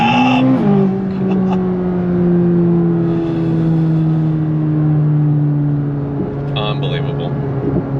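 A 2026 C8 Corvette ZR1 supercar on throttle gives a loud, close engine drone that holds a strong steady tone and then sags gently in pitch, with a voice talking over it.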